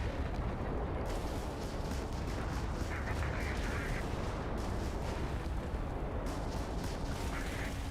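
Turrets firing in the Starfield space game near an asteroid field, a quiet steady barrage of dull muffled blasts blending into a constant rumbling wash, distant and low in level, with no talk over it.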